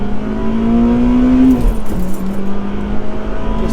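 Honda Civic EP3 Type R with a K20 VTEC engine accelerating hard, loud and close, its rising engine note climbing steadily, dipping briefly as it shifts, then pulling on again with a steady drone.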